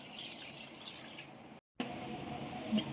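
Water streams steadily into a pot of mutton being cooked for biryani, a soft, continuous splashing hiss that cuts out briefly partway through before resuming.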